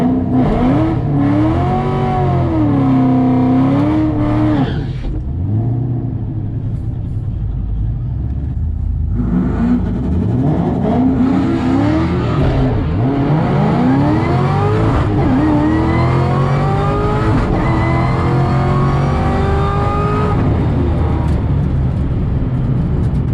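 A Ford Mustang GT500 launches on an eighth-mile drag run, its engine revving loud and close with rising whines as gears climb. A pause falls between pulls before a second hard acceleration.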